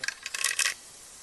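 Mustard seeds drop into a pan for a Nellore-style fish curry, making a brief crackly patter of small hard grains that lasts under a second, fairly faint.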